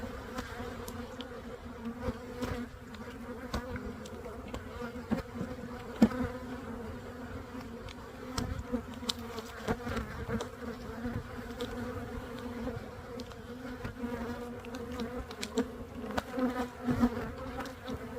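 Agitated honeybees buzz steadily around an open hive in a bee yard, a dense continuous drone close by with individual bees zipping past the listener.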